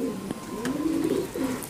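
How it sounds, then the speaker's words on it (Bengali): Soft, throaty cooing from a male Nildumma pigeon, a steady run of low rolling coos repeated close by, carrying on for the whole moment with no talk over it. "এটা নর কবুতর, আমি এর মাদি কবুতরটা দেখি।"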